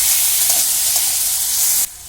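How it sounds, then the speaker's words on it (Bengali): Carrots fry in a pan with half a spoon each of ginger paste and green chilli paste, giving a loud, continuous sizzle throughout that drops away abruptly near the end. "এর মধ্যে দিয়ে দিলাম হাফ চামচ আদা পেস্ট আর হাফ চামচ কাঁচা লঙ্কা পেস্ট ভালো করে মিশিয়ে নিলাম"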